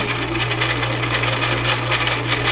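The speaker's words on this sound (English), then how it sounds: "So let's keep sewing in that circle, maneuvering it all the way around till you get the entire circle." A sewing machine stitches steadily around a circle, its fast even needle chatter running close and loud without a break.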